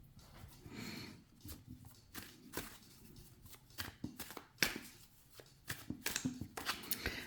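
Tarot cards being shuffled by hand, a run of crisp riffling flicks and soft slaps at close range, with quiet handling noises between bursts.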